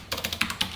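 C code typed on a computer keyboard, six or seven quick, close key clacks in a brisk, even rhythm over under a second, with no talk.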